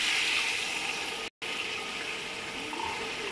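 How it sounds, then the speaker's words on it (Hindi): Meat stock pours steadily into a pot of beef pulao with a continuous splashing rush, briefly interrupted once, then flowing on at the same level. "ये मैं यखनी डाल रही हूँ"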